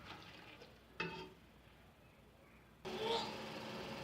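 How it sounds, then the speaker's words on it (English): Onions frying in a pan, cooked until dark brown for chicken dum biryani, give off a soft, fairly faint sizzle that swells louder and steadier toward the end. "fry these onions until they turn dark brown in color"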